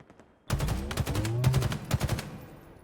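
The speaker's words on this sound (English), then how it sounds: "Shots coming out." Rapid bursts of automatic gunfire in a competitive Halo match, a loud volley of sharp repeated shots with heavier thumps underneath, starting abruptly after a near-silent opening.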